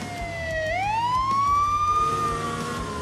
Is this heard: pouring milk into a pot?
no